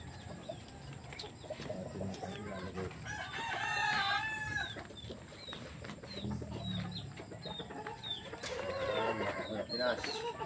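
A rooster, a Nelson Black gamefowl, crows several times at mid-distance on a poultry breeding farm, with other birds clucking and chirping through steady outdoor background noise.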